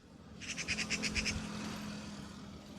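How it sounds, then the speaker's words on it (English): Ambient birdsong from a Windows XP-era adventure game, a quick run of bright repeated chirps near the start over a steady low background hum, then the tweets fade into a faint drone. "Birds are so loud."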